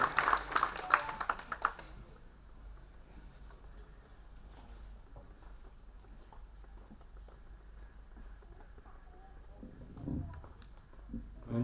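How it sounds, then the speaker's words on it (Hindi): Audience applause at an Ambedkar Jayanti celebration at IIT Delhi welcomes guest speaker Thomas Mathew. A dense burst of many hands clapping fills the first two seconds, then fades into the quiet murmur of the hall. "एक बार जोरदार तालियों के साथ स्वागत करें श्री थॉमस मैथ्यू"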